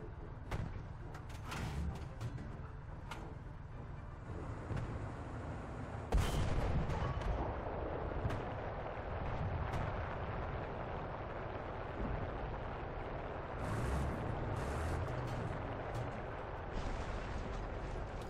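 Tank cannon fire in the War Thunder video game, a few distant heavy booms over a constant rumbling engine drone, with a louder shot about a third of the way through.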